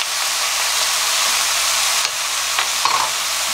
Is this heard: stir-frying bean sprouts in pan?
yes